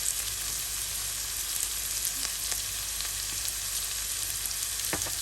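Whole cumin and crushed chili frying together in oil in a pan, a steady close sizzle with occasional light clicks of stirring, no voices.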